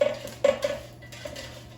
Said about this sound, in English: let's take out the air fryer basket and just mix everything, shake and redistribute it so everything cooks evenly